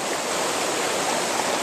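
Stream water at a gold prospecting spot rushes steadily, a close, continuous broadband wash of flowing water with no voices over it.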